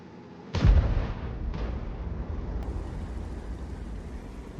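Heavy tank main gun, with a Maus mentioned as the target, fires once in a tank video game: a sharp loud boom followed by a long rumbling decay and a second fainter blast, then steady low engine hum.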